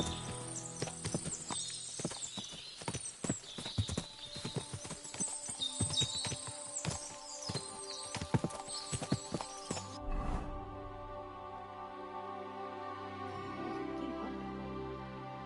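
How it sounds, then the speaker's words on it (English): Horses clip-clop in the video game Kingdom Come: Deliverance II, a dense run of hoofbeats with an occasional whinny that stops abruptly partway, leaving a low steady hum. "What a lot of horses!"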